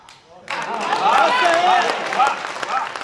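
Audience bursting into applause at a Hindi speech or comedy event, a dense wash of clapping that starts abruptly and sustains at steady loudness, with voices mixed in.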